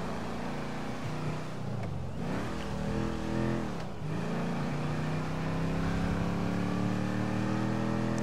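A car drives in the video game GTA V, its engine droning steadily with two brief dips where the pitch falls and climbs again as it shifts or revs back up.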